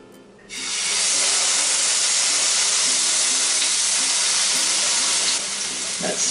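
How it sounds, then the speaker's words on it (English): A loud, steady sizzle bursts up suddenly and continues as a frozen burger patty fries in a hot frying pan, a broad hissing crackle close by. "Sizzle will slow down here in a second."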